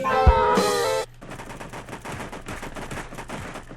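Gunfire in the mobile shooter game Sausage Man, a loud shot over a tonal game sound at first, then a rapid series of quieter crackling shots running on behind.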